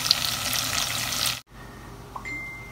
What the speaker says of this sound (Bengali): জিরা দিচ্ছি গরম তেলের মধ্যে, জিরাটা একটু ফ্লেভার দেয় সবজির মধ্যে। আর পেঁয়াজ দিয়ে দিচ্ছি